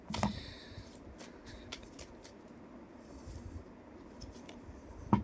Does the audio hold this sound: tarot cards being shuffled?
yes